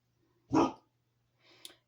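A dog outside barks once, clearly but muffled by distance, and then gives a fainter second bark a moment later against a quiet indoor background with a low hum.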